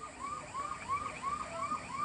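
A vehicle siren wails in quick repeating rising-and-falling sweeps, fairly faint and distant, carried by people running a street programme.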